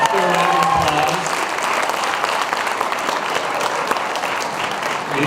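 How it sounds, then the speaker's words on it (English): An audience at an alumni awards ceremony applauds an alumna from the class of 2011 receiving a GOLD award: steady, dense clapping sustained throughout, with a voice briefly audible at the start. "let's do a round of applause."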